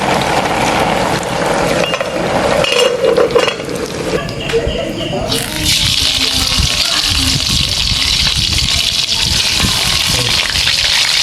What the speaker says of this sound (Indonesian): Udah surut, kita masukkan kacangnya.